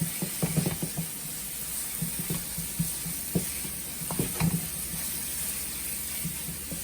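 Shrimp paste sauce for chicken nasi goreng is stirred in a pan with a steady sizzle underneath, and a spoon scrapes and clicks in irregular bursts, close and moderately loud, with no one speaking.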